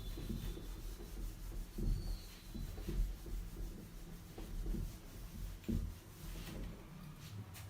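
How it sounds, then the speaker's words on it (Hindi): A duster rubs writing off a classroom board in a run of soft, scratchy back-and-forth strokes with uneven swells, close by and without speech. "चलिए इसको मैं रब कर देता हूँ"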